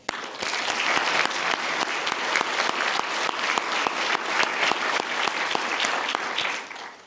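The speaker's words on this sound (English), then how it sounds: "big round of applause to all of our honorees today" Steady, dense applause from an audience honoring promotion ceremony honorees, with distinct claps standing out, sustained for about seven seconds before tapering off.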